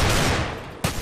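Gunfire in the first-person shooter CS:GO, a dense loud volley of shots that eases off, then a sharp fresh burst near the end, with no talk.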